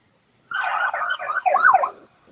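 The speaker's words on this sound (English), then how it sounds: "I hear the siren and a bunch of engine revving" A wailing siren rises and falls over a busy mix of noise, loud and close, with no clear engine revving standing out.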